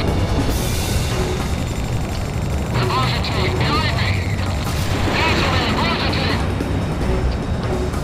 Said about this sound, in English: A large-scale explosion has apparently occurred in midair.